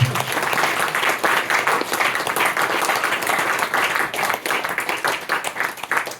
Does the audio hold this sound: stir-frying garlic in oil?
no